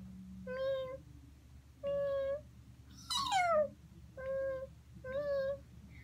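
A person imitates a cat, giving five short meows spaced about a second apart over low background hum. The middle meow is louder and slides downward in pitch, and all of them are fairly faint.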